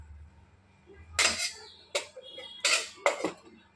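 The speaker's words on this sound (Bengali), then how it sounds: "এবার আমি এটাকে ঢেকে দিচ্ছি একটু সময়ের জন্য।" A metal lid is set over a cooking pot of potol chingri, a Bengali pointed gourd and prawn dish, making four sharp clanks and rattles in quick succession in an otherwise quiet kitchen.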